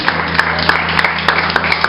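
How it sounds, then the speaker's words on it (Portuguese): Church congregation applauding in a dense, steady wash of claps with a few sharper peaks, close and continuous, under a low sustained hum. "Vocês podem aplaudir o nome do Senhor em nome de Jesus?"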